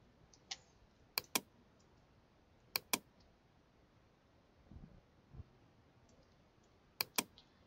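Sharp mouse clicks on a computer during Photoshop work, quiet and close, coming mostly as quick double clicks spaced a few seconds apart, with faint soft handling sounds between them.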